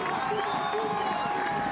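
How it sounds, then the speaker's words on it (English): Stadium crowd at a Monterey Bay F.C. versus New Mexico United soccer match, applauding during a substitution: a steady, distant wash of clapping and cheering with a commentator speaking over it. "To some applause, I would assume."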